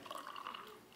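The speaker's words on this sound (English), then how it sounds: "I'll show you, we'll do the pour." Pepsi and milk poured into a glass, a soft steady liquid splash and trickle running close by for about a second, fairly quiet and uninterrupted.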